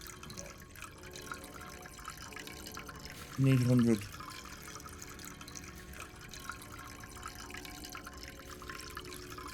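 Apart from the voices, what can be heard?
pouring liquid chocolate from a pot in a chocolate factory video game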